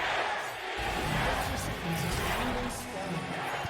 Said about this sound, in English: Crowd seems quite competitive right now.